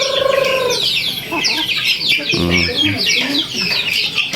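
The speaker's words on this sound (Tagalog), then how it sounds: "Native chicken, meron ding half breed dito na Brahma chicken" Native and half-breed Brahma chickens clucking and squawking close by in a backyard pen at morning feeding, busy overlapping calls with a short rooster-like call near the start and a brief voice partway through.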